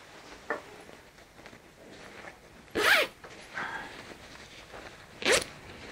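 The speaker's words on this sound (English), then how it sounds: "The zipper on the bug net, it is a double zipper." The double zipper on a Snugpak Jungle bag bug net is pulled in two quick, close, crisp zips a few seconds apart, with a faint rustle beforehand, in a quiet setting.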